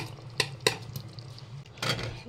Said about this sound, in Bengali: আর এবার ভেজে রাখা আলুগুলোকে এর ভিতরে দিয়ে দিচ্ছি।